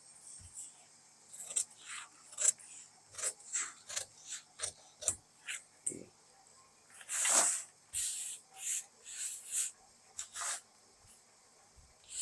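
Scissors cut through kurti fabric for an Anarkali dress in a close series of rhythmic snips, with one longer slicing stroke midway and short pauses between cuts.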